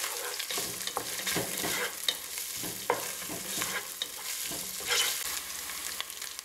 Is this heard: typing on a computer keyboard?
no